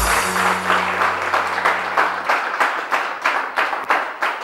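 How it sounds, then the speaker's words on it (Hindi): A television morning show studio audience claps in a steady, evenly spaced rhythm of distinct beats, with a low tone fading out partway through. "बहुत सारी तालियां"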